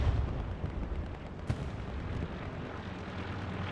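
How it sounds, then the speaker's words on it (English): Rockets launch in the distance during a competitive console match of the World War II shooter Hell Let Loose, a low rumbling wash of far-off blasts with one sharper crack midway, steady and fairly faint throughout. "Sergeant Schwick launching some rockets in the distance"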